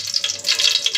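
Coconut oil is poured into a cooking pan, a brief steady hissing trickle close by with no voices.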